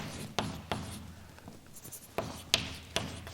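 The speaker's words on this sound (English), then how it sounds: "So let me write that down." Chalk or marker strokes on a board during a university lecture, a quiet series of short scratchy taps and scrapes in an irregular rhythm, heard alone without talk.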